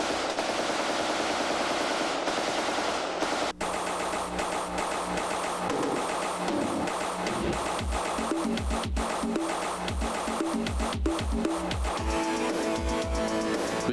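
A military machine gun fires repeated rapid bursts of rounds, loud and sharp, with short pauses between volleys and no voices.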